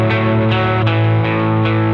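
A loud, sustained distorted guitar chord rings out with washy reverb and delay, re-struck a few times as the sound swells and echoes.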